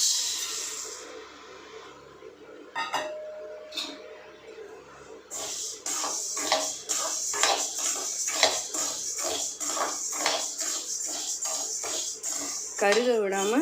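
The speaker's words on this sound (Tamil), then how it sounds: "கொஞ்சம் நல்லா ஹீட் ஆனதுக்கப்புறம் உளுந்து மட்டும் எண்ணெய் இல்லாமல் வறுக்கணும்" Urad dal dry-roasting in a hot kadai with no oil: a steady bright hiss with frequent scraping and rattling clatter from stirring against the pan, growing busier and louder in the second half.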